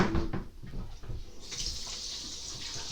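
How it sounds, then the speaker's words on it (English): Water runs from a tap onto a hand in a studio, a steady hiss with splashing that starts rough and settles into an even flow, close and moderately loud, with no voices. "gotta get some water on my hand."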